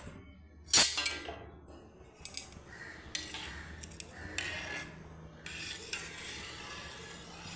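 Cow's first milk (colostrum) is stirred in a pot on a gas stove, with a spoon scraping and clinking against the metal in irregular strokes over a faint background hiss.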